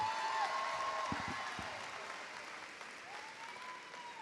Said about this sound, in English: Let's give a round of applause for our Rhodes College and Career Academy class of 2025